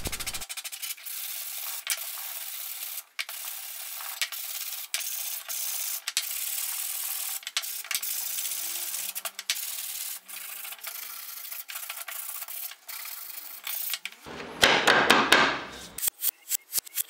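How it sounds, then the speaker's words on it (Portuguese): Hand sanding of large wooden pieces for a newborn photography basket, a steady scratchy rubbing that runs continuously with brief pauses, ending in a few louder handling knocks and clatters. "Depois eu fiz o lixamento das 30 peças grandes para dar um acabamento melhor."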